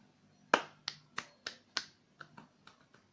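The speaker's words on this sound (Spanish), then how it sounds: "Me aplaudo." A woman claps for herself in a short burst of about nine sharp, close claps, loud at first and then fading into lighter, quicker claps.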